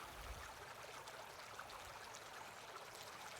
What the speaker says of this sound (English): I'll get a little bit of more water here.